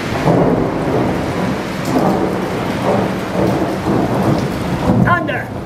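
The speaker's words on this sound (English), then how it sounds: "Thunder!" Rolling thunder during a heavy rainstorm, deep repeated rumbles over a constant hiss of rain, loud and close, with a faint voice near the end.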